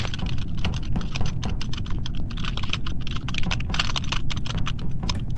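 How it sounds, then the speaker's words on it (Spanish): Rapid clattering keystrokes on a computer keyboard during an online Among Us gaming session, a loud continuous run of clicks over a steady low background rumble. "Y deja de tocar el teclado, anda."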